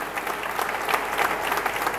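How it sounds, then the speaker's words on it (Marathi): An audience at a kirtan festival claps loudly and steadily for the organ and tabla accompanists, a full, sustained burst of applause with slight swells. "एकदा त्यांच्याकरिता जोरदार टाळ्या."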